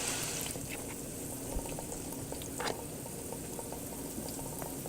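Bacon cheeseburger avocado egg rolls fry in oil in a skillet, giving a steady bubbling hiss with a couple of faint crackles, low and continuous with no one speaking.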